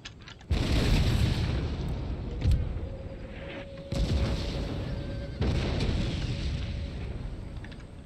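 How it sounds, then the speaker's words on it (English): Artillery units firing in Empire Total War during the Battle of Rossbach 1757, several heavy booming cannon shots spaced a few seconds apart, each followed by a long rumbling tail, loud and alone. "So now we will have 2 units of artillery firing."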